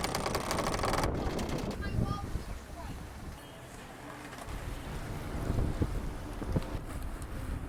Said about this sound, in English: it's flat water, good wind, good breeze. We're just having a blast. Full sail up.